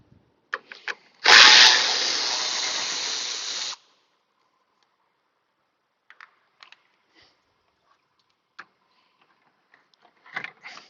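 A power tool removes 10 mm bolts from a Dodge fan shroud during a water pump replacement, giving one loud, steady hissing whir of about two and a half seconds, followed by faint clicks and light handling noises.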